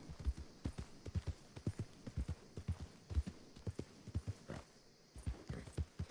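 Horse hooves clip-clop in the western video game RedM during a reining event in an arena, quiet and steady. The irregular, quick hoofbeats repeat continuously with faint background ambience.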